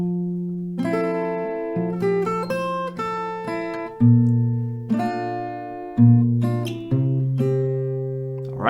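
Acoustic guitar strums and picks through the first part of a song, a steady series of chord changes with ringing sustained notes, played alone at close range with no talking.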